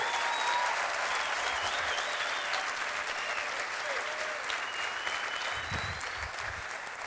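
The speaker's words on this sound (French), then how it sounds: "Tu as le droit d'applaudir pour Jésus" An audience at an evening church gathering applauds in a steady, sustained wash of clapping, with faint voices and a few whistles mixed in.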